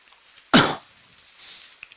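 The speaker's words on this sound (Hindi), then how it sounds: "खांसी आ रही थी थोड़ी, अभी ठीक है।" One short, sharp cough bursts out close to the mic, with a faint throat sound trailing after it in a quiet indoor room, and no speech.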